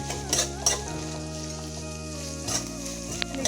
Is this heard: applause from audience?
no